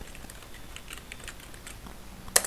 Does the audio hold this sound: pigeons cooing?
no